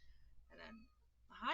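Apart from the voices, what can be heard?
cat meowing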